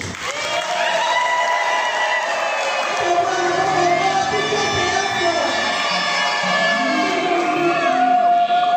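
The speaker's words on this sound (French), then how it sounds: "je voudrais que vous puissiez tous et toutes les applaudir" A large crowd at a ceremony in Kwilu, Congo, applauds and cheers for a community of sisters, loud sustained clapping with whoops, shouts and ululating voices throughout.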